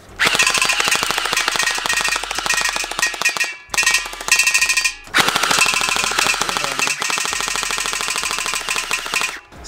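A rapid-fire Chinese toy gun shooting long, dense bursts of shots in quick succession, loud and close, with a couple of brief pauses between strings of fire.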